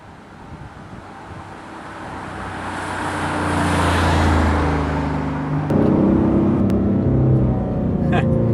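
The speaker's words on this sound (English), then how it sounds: "That exhaust tone is great." A deep exhaust rumble from a 2010 Dodge Challenger R/T builds and swells, with a loud throaty growl rising mid-way and continuing, close up over road and wind noise.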